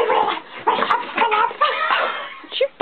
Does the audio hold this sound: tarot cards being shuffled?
no